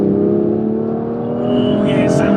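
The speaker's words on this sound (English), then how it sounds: "Put your foot down, let's feel a bit how it pulls." A BMW M2 accelerates hard from inside the cabin, a loud steady engine drone with rising tonal harmonics building over a couple of seconds, close and continuous.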